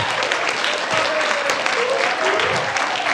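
Congregation applauding at a church service, a dense, steady wash of clapping from many hands throughout, with faint voices mixed in.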